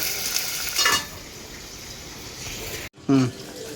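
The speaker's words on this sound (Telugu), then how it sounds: "పచ్చిమిర్చి ఫ్రై అయిపోతుంది" Green chillies fry in a pan for mint chutney, a moderate continuous sizzle with a louder swell near the start and a sudden cut followed by a short clatter near the end.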